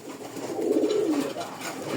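A pair of oversized Rajgolla pigeons, a male and a female, give a low, throaty coo up close, one soft rolling call over faint room background.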